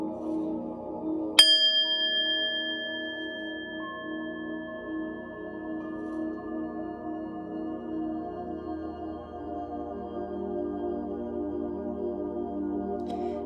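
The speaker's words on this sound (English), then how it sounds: "I'm going to ring the bell, clear your energy" A single bell struck once during a tarot love reading, its bright metallic ring sustaining and fading slowly over many seconds above a low steady background hum, with no talking.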